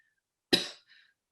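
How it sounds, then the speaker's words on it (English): A single short, close cough from a lingering post-COVID cough, one sharp burst with a faint trailing breath, heard alone without talk. "I still have my post-COVID cough."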